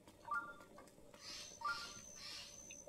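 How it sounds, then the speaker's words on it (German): Two short bird chirps ring out in the Breath of the Wild video game, faint against a quiet ambient game backdrop with soft hissy wind-like texture and no talking. "Okay, das war ein Vogel."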